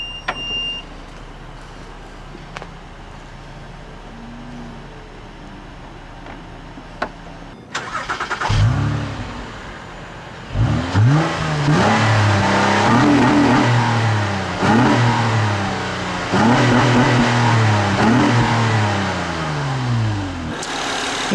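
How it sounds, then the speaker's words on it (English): A 3.7-liter J37 V6 in a 2010 Acura ZDX starts up and settles into a loud, close idle. Several sharp revs rise and fall in a row after quiet ticking. "at least you get one mean-sounding V6 under the hood"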